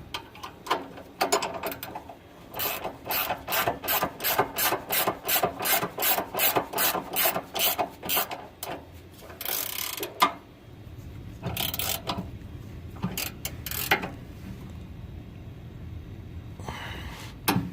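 Wrench tightening bolts on a BMR WL002 Watts link fitted to an F-body Camaro, a rapid series of rasping ratchet clicks in even strokes, followed by slower scattered turns and rubbing metal handling sounds, close up with no talk.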